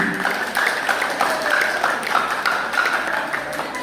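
An audience at a school quiz championship final applauds the match's best player, a dense, even patter of clapping from a crowd that holds steady for the whole stretch.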